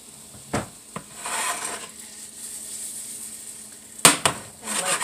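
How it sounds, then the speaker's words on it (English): Potatoes slide into hot oil in a home kitchen, giving a few sharp clatters and thumps followed by a soft, building sizzle, with a louder clunk near the end; no speech. "Okay, so the oil's hot now. And I'm just going to put my taters in there."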